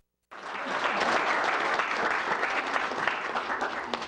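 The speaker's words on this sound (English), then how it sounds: "as you can hear, there's a lot of applause in the room" Steady applause from a group of people fills the Japanese module of the International Space Station, starting abruptly and continuing throughout without any talk.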